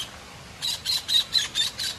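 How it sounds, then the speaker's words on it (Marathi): A kingfisher gives a series of about six sharp, high-pitched calls repeating at a steady rhythm over faint background noise, near a dam. "तिकडशी उडत आला तो किंगफिशर."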